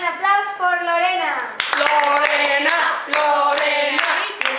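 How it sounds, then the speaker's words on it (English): Children at a summer camp break into clapping for Lorena: quick rhythmic hand claps with excited kids' voices shouting and cheering loudly over them. "And now, an applause for Lorena."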